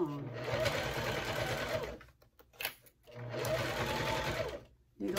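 A sewing machine stitches a zipper onto a fabric bag in two steady bursts of rapid mechanical whirring, separated by a short pause with small handling clicks, loud and close.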